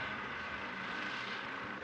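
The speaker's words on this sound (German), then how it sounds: "Der Helikopter ist kurz weggeflogen aus Sicherheitsgründen." A helicopter departs a ski downhill race course at Val Gardena in Italy, heard as a faint, distant, steady engine drone with no talk.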